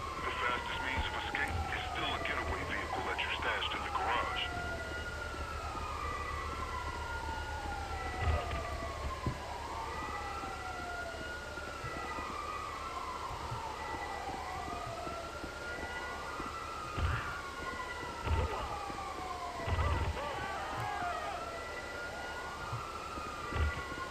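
Police sirens in the video game GTA Online, repeated wailing sweeps rising and falling over a steady hum, with quiet background noise underneath.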